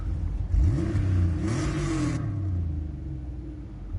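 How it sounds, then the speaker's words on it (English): A car engine in the video game Gran Turismo 7 cranks and starts up, a rising rev with a burst of exhaust roar, then settles into a low steady idle rumble. "It plays the same exhaust startup kind of deal that when you switch cars it does"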